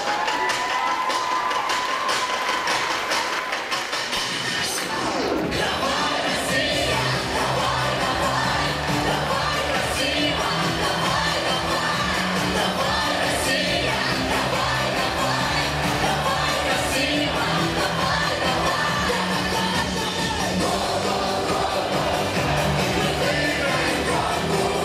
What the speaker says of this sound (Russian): И эти аплодисменты!